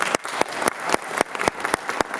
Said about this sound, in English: Please applaud the youth group members.